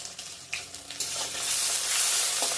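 Chopped tomato and panch phoron spices frying with onion in a pan, a few stirring scrapes and taps giving way to a bright, rising sizzle that fills the last half, close and without talk.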